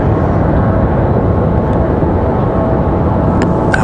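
Jet airliners at Raleigh Durham International Airport produce a steady, loud broadband roar close by, a continuous engine rush without breaks and with a few faint clicks near the end.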